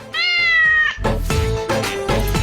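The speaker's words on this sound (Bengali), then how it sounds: "নে বিড়াল, তুইও খা।" A domestic cat gives a loud, long drawn-out meow close by, followed by a few shorter, rougher calls.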